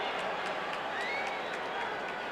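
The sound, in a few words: stadium crowd reacting to another game's score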